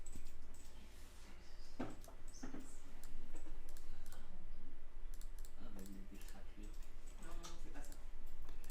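Sparse computer mouse clicks against quiet room tone while working in Adobe Illustrator, a few sharp clicks scattered across the stretch.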